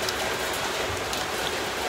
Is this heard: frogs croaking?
no